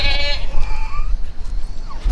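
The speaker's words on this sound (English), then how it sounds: "So Houston's just out here chilling with all the baby goats" Baby goats bleating close by outdoors, a sustained wavering cry at the start followed by fainter, shorter bleats over a low rumble of wind or background noise.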